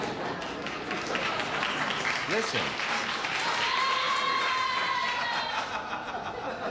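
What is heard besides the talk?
studio audience applause for the stagehand's joke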